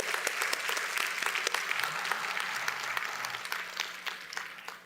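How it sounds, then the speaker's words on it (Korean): The congregation at Promise Church in Queens breaks into applause during the service, many hands clapping with sharp individual claps standing out, moderately loud, gradually thinning toward the end with no speech. "우리 감사와 영광의 박수를 한번 다시 올려드립니다"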